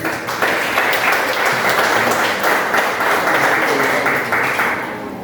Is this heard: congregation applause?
yes